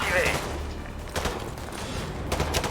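Gunfire crackles in the video game Modern Warfare 2 Remastered, a short burst of shots and impacts over a busy game soundscape, moderately loud, with a voice briefly present.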